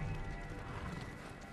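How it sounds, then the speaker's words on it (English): Horse galloping in the Ghost of Tsushima video game, a steady run of hoofbeats rolling continuously at moderate volume with a rich low rumble, alone without talk. "Look at the horse."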